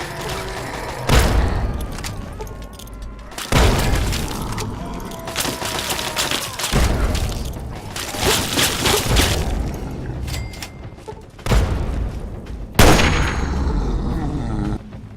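Grenade explosions in Fallout 3, several heavy booming blasts spaced a few seconds apart, each with a rumbling tail, loud and close amid game noise.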